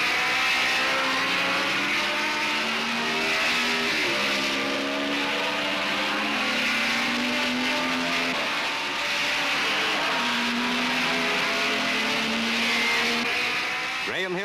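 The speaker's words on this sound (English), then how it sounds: "a driver's eye view of what Grand Prix racing means at Brands Hatch" Grand Prix race cars at Brands Hatch in the 1960s, heard from the driver's view: a loud, continuous engine howl rising and falling through gear changes, with a narrator talking over it.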